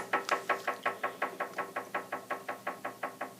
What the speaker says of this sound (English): gonna stamp steel with these